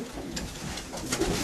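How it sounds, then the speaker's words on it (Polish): Soft, low cooing of yearling and older male pigeons, about 20 to 25 birds in one loft section, blends into a steady murmur of background noise, with no voices. "To są gołębie roczne i starsze."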